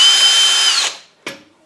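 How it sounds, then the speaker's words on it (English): A tool post drill mounted on a lathe whines loudly at high speed while drilling a gear, then winds down, followed by a short sharp clack. "What I got here is a tool post drill."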